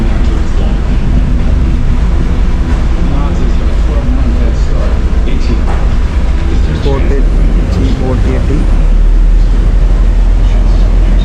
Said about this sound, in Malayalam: ഫോർട്ട് കൊച്ചിയിൽ അടുപ്പിക്കാൻ പോണാണ് ബോട്ട്